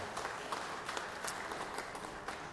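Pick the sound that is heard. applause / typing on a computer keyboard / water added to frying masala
applause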